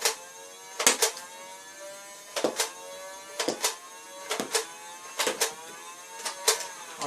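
A Nerf blaster fires six foam darts at a DIY paper spinning target, producing short sharp clacks in irregular bursts, loud and close, with quiet gaps between shots.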